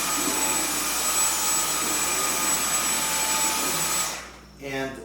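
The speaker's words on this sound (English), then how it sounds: "it's so much easier to just pick up and start vacuuming" A cordless stick vacuum cleaner runs loud and close with a steady high-pitched whine, then cuts off and spins down near the end.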